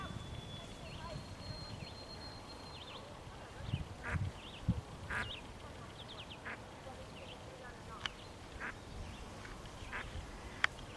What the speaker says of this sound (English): Mama duck and all the little ducklings.